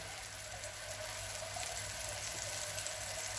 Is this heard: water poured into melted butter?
yes